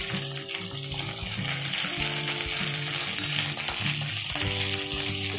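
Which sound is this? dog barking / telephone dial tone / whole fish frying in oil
whole fish frying in oil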